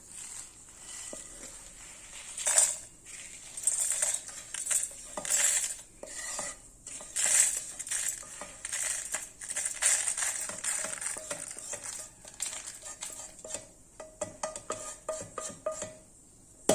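Roasted pav bhaji spices are tipped and spooned into a mixer jar, making soft, close clinks, taps and rattling scrapes of metal and dry spice in irregular bursts. No one speaks.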